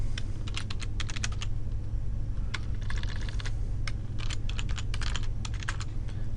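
Computer keyboard being typed on while entering a username and password, rapid clusters of close, crisp key clicks with brief pauses between bursts over a low steady room hum.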